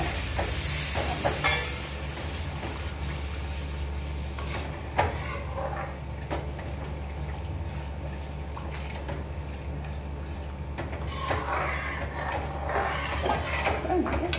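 Steady hiss and sizzle from a hot pan as water is poured in gradually, with faint clinks of utensils and occasional soft voices.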